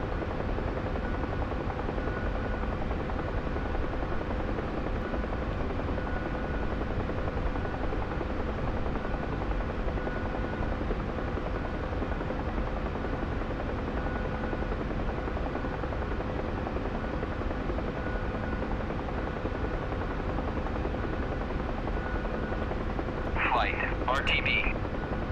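A Huey helicopter flies in the DCS combat simulator during a search-and-rescue mission, its rotor and turbine producing a constant, steady drone throughout, with a short radio-like voice near the end.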